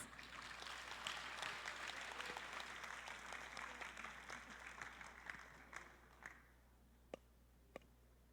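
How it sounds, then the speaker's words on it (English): A crowd claps steadily for several seconds, then the applause thins out to a few scattered final claps. "Please give a round of applause."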